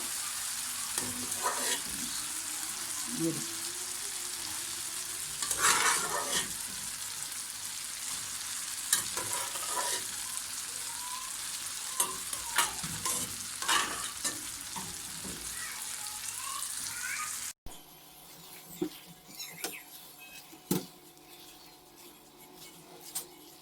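Mutton and dal fry and sizzle in a pot, steady hiss with repeated spoon scrapes and knocks from stirring, close and fairly quiet, the frying dropping away near the end while clinks continue.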